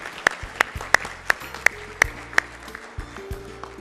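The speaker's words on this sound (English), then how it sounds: "can we have a huge round of applause for Himjyoti School and for Sudarshan ji." A handful of sharp, evenly spaced claps, about seven in a row, sound at a literacy awards event honoring a school, with a faint low hum underneath.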